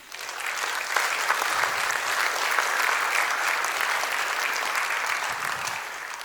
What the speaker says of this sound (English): Can we give a big round of applause to all of you?